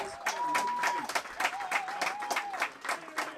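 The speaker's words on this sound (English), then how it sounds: "A round of applause for the Crabs fans." Baseball fans applaud in a stadium crowd during a Crabs versus Fresno A's game, a scattered run of claps with a sustained whistle-like tone over it, moderately distant and steady.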